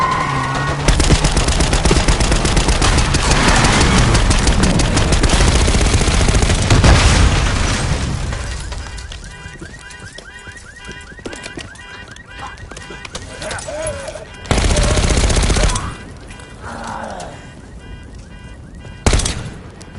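Video game shootout with dense bursts of automatic gunfire and loud booming shots, heavy at first, then sparser sharp reports and a few louder blasts later, with some voices between volleys.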